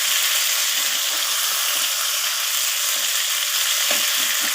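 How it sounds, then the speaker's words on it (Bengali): Chopped tomatoes are stirred and fried in oil over a whole cumin seed tempering for a vegetarian potato curry, giving a loud, even, continuous sizzle that holds close and unbroken throughout. "তো টমেটোগুলোকে আমি একটু নাড়াচাড়া করে তেলের সাথে ভাজা করে নিচ্ছি।"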